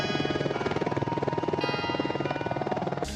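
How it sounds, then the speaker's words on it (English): An Apache Longbow helicopter's rotor blades thump in a fast, steady rhythmic beat, loud and close, continuing without a break throughout. "the classic helicopter sound that you hear in all the movies."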